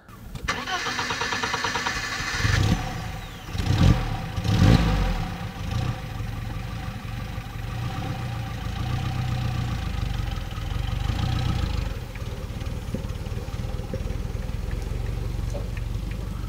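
A restored 1955 Mercedes 190 SL, one of the first built, cranks and fires up, then settles into a steady, close idle that runs on evenly, with a brief voice over the engine near the start.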